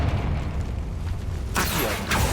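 Confringo blasting spell in Hogwarts Legacy, heard as a sharp bright burst near the end of a low rumbling background, loud and close.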